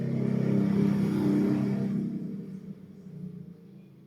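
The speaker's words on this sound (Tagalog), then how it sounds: "Maingay yung mga motor na dumadaan." A loud motorcycle engine roars nearby and gradually fades as it moves away, leaving quieter road noise.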